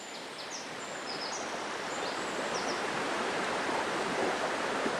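The River Dove flows in a steady, broad rush of running water, an even wash of sound with faint high chirps from birds above it.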